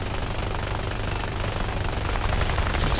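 Aircraft guns fire in War Thunder as a dense, continuous rattling burst over a loud engine drone, steady and close for about three seconds; no voices.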